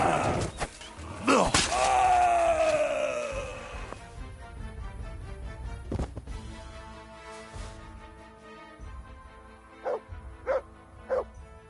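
Dog barks and yelps in the video game Kingdom Come II, one loud yelping burst early on, then a few shorter barks near the end, with a voice talking in between.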